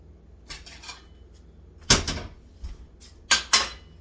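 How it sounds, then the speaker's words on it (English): A plate is taken out in a kitchen, heard as a few sharp clatters and knocks of dishware and cupboard contact at close range, separated by brief quiet gaps. "Let me get a little plate here for my stove shits."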